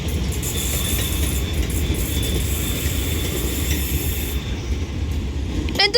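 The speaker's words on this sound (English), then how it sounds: "But 35130 is on this London North Western Railway Class 350" A London North Western Railway Class 350 electric train at Wolverhampton station, a steady loud rumble of rolling stock with faint high whine, ending in a brief sharp squeal or clatter near the end.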